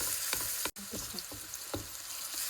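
Onions and tomato fry in a pan for a Goan cauliflower caldin curry, giving a steady close sizzle broken by scraping stirs and one brief drop-out, with no talk.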